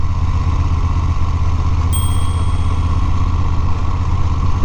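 A 2016 Moto Guzzi Eldorado riding in second gear at about 18 mph, a loud steady engine drone with wind rush throughout and a brief high chime partway through.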